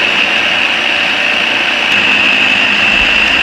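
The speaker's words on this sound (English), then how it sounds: "all I have is a little Ninja blender" A small Ninja blender whirs steadily as it purees cut-up tomatoes for sauce, a loud continuous high-pitched motor drone up close.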